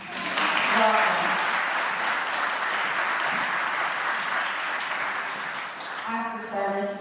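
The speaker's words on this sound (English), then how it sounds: "we're just going to give one big hand clap for all the people too shy to raise their hands" Congregation giving a big round of applause to welcome newcomers at a Diwali-themed service, a loud sustained wash of clapping that fades toward the end as a voice begins speaking.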